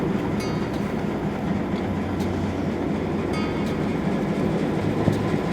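Boone and Scenic Valley Railroad train engine rumbling steadily close by, with a continuous low mechanical drone, faint rail clatter and occasional light clicks, no talking.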